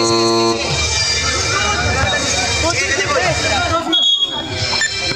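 A loud, steady electronic buzzer blares at a junior-division basketball league game, cutting over an indoor crowd with speech around it before dropping off near the end.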